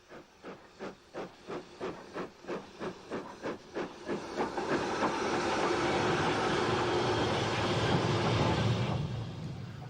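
A pair of LNER Thompson B1 steam locomotives bound for Scarborough puff in loud rhythmic exhaust beats that quicken, then merge into a continuous roaring hiss of steam as they pass close by.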